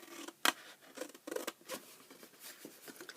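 Scissors snipping through paper while a milk carton box is made for an Easter craft, a quiet close series of crisp cuts with one louder snap near the start.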